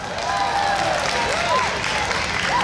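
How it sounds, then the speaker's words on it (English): Crowd applause at an outdoor Canada Day festival in Côte Saint-Luc, a steady wash of clapping, cheering and whistles close by, with voices and faint calls mixed in. "Give them a big round of applause."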